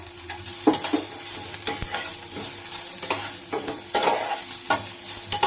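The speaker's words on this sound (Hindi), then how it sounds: "अब मैं इसमें प्याज डालूंगी। ये 1 प्याज है जो मैंने बारीक काटा हुआ है।" Finely chopped onion fries in a pan and is stirred, a constant close sizzle broken by repeated rhythmic scraping strokes of a spoon against the pan, with no talking.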